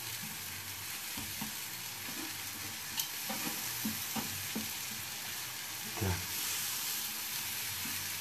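Sunflower oil sizzles and crackles in a frying pan with a steady hiss and scattered pops, close and moderately quiet.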